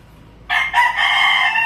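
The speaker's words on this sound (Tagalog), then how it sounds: "Ito yung isang hawak nating manok mga idol." A sweater-breed rooster, a sweater crossed with pumpkin, crows close and loud on its own, breaking into one long cock-a-doodle-doo after a short quiet start.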